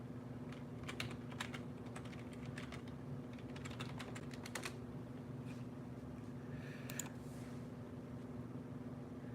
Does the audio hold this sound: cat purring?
no